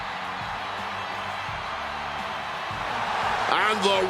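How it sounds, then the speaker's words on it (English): Crowd roaring and cheering in the WWE 2K26 wrestling video game, a continuous arena roar swelling toward the end, with commentators talking over it. "the roar of this crowd is absolutely deafening"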